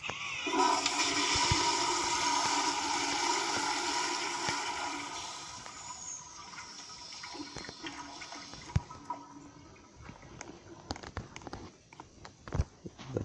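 A toilet flushes in a Roblox mall restroom, modeled on a 1970s Kohler Kingston fixture, with a loud rushing swirl that fades over several seconds into trickling and faint clicks.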